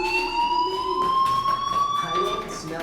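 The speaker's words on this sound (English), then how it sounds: "Hey, do you hear that fire alarm?" In the video game Life Is Strange, a fire alarm sounds as a steady, shrill electronic tone that holds constant throughout, with a person talking faintly beneath it.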